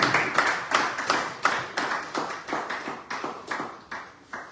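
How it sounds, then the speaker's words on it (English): A small group at a legislative internship reflection session claps in a slow, evenly spaced rhythm, each clap distinct and sharp, close and moderately loud, with no talking. "Please let's give a round of applause."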